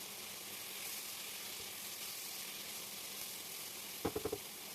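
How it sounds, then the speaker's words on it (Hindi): Sliced red and green bell peppers and onion frying in a little oil in a pan, a soft steady sizzle with a few quick clinks of a utensil near the end. "इन सब्जियों को मैं थोड़े से ऑयल में 2 मिनट के लिए फ्राई करूँगी"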